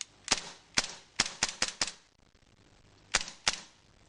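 An LS M9 gas blowback pistol cycling its slide with the slide stay held, giving sharp, loud, close cracks: a run of five irregularly spaced shots, a pause, then two more.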